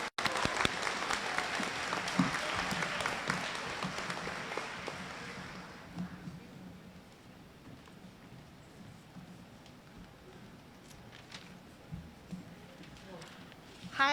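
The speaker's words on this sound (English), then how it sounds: "One round of applause." Applause for a student at an 8th grade promotion ceremony, a burst of clapping that fades to scattered claps and room noise after about six seconds.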